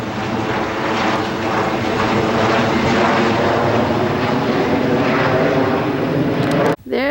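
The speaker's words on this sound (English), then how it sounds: "There comes a plane in." An airplane passes overhead near a creek picnic area, a steady broad engine roar holding at full strength for about seven seconds before cutting off abruptly.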